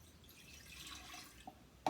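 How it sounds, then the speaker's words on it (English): Fresh lemon juice mixture poured into a pitcher for lemonade, a soft continuous liquid trickle with a few distinct drips and a sharper splash near the end, close and quiet. "I'm going to pour my lemon juice mixture"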